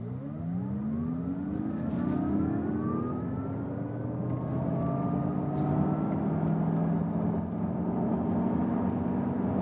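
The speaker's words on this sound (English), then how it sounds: "what about the acceleration here for the Mazda MX-30?" A Mazda MX-30 electric car pulls away hard from a standstill, slightly uphill, up to about 90 km/h. A loud, steady electric motor whine climbs in pitch throughout, with road and wind noise and no talk.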